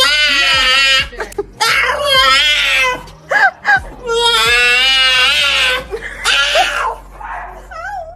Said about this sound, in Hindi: जब ये कुत्ता कैसी कैसी आवाजें निकालता है ये आप खुद ही सुन लीजिए